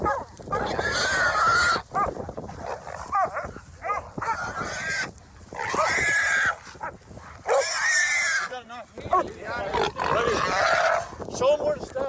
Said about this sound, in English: Listen to that dog barking.